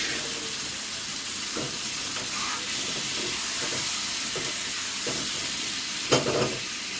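Chicken pieces deep-frying in oil give a constant loud hiss and bubbling sizzle nearby, with a few brief louder splutters near the end.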